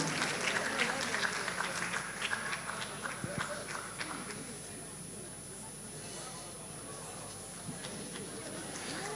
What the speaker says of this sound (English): let's put our hands together for her.